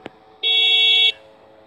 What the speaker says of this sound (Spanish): Como estamos dentro, se escucha más fuerte el claxon, es obvio.